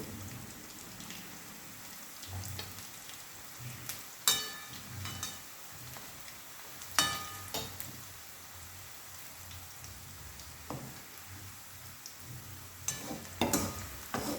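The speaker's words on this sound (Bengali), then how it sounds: "পেঁয়াজটা একদম লাল লাল করে ভাজা হয়ে গেছে।" Onions frying in a pan for a potato chicken curry, a steady fine crackling sizzle throughout with a few louder pops and spits, fairly close and with no talking.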